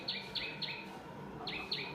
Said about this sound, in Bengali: পাখিগুলো গুড মর্নিং করছে